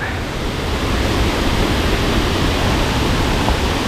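Heavy water pours down the fifth tier of Krathing Waterfall in Chanthaburi as a loud, close, unbroken roar that fills the whole stretch.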